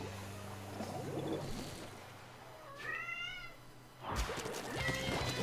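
A cat meowing close by, one distinct rising and falling meow midway over low background noise, with other rustling sounds around it.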